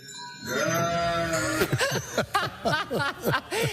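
Sheep bleat in a rhythmic run of short, wavering calls over an upbeat boy-band pop song, the bleats rising loud and close in the second half alongside the music.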